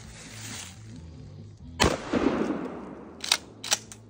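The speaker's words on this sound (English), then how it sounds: "today we're gonna see how it stands up against a 12-gauge shotgun" A 12-gauge shotgun fires at a Halo 3 game case, one sharp loud blast followed by debris rattling and a couple of smaller cracks, with no talking.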